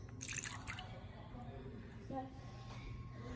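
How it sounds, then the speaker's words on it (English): Milk, a third of a cup, pours into a container for a simple kids' science experiment with food dye: a soft, steady liquid trickle and dripping lasting a few seconds, with faint voices in the background. "we just poured in the milk"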